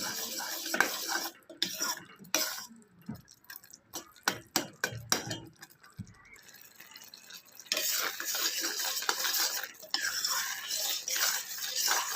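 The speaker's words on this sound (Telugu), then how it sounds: "నెయ్యి వేసుకున్న తర్వాత ఒకసారి బాగా కలుపుకోవాలండి" Ghee being stirred into a dish in a metal pan: a spoon scrapes and clinks against the pan in irregular bursts, with a steadier stretch of scraping later, close and fairly loud with no talk.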